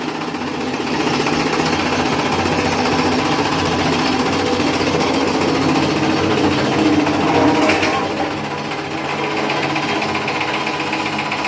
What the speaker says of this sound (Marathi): मशीन नॉनस्टॉप चालू द्यायची अशा प्रकारे त्याच्यामध्ये चारा लोटायचा